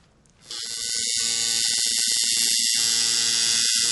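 A tattoo machine runs with a steady, unwavering electric buzz that starts abruptly and holds constant throughout, close to the microphone, with brief tonal clicks or bursts over the continuous hum.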